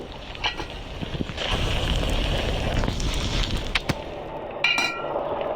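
Fire crackling and roaring in the horror video game Evil Nun, a steady loud rushing blaze throughout with sharp snaps and pops near the end, no talk over it.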